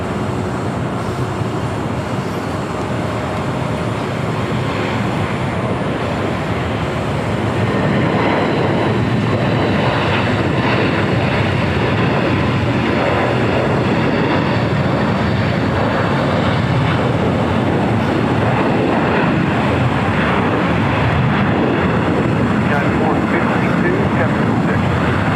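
Large jet airliner, a converted 747-400 cargo plane, taking off at LAX, a loud continuous broadband engine roar that grows slightly and holds for the whole stretch.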